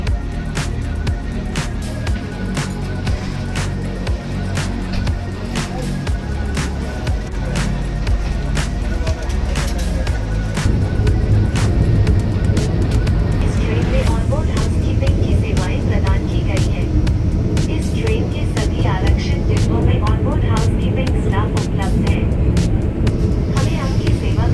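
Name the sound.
Vande Bharat express train picking up speed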